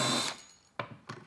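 A drill bores a hole through wood using an undermount drawer slide drilling guide during a Blum slide installation, heard as a loud burst that fades, followed by two shorter bursts.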